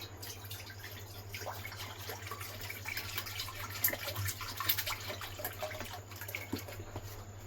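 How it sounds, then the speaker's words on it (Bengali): One litre of milk poured into a pot for mango pudding, a steady liquid stream splashing continuously at close range with a low constant hum beneath. "দুধটা দিয়ে দেবো।"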